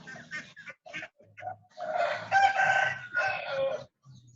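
Kept rooster crowing nearby, a long loud cock-a-doodle-doo following some brief clucks and calls from the chickens.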